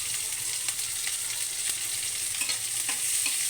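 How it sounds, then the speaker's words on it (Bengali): Chopped onion and green chillies fry in oil with five-spice for a small-fish dish, a steady close hiss with light stirring scrapes, no voices. "এখন দেব পেঁয়াজ কুচি এবং খালি করা কাঁচামরিচ"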